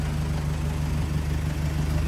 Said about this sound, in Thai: รถ เป็นเครื่องยนต์ดีเซลสองพันห้านะครับผม เครื่องของมันเร็วแล้วนะครับ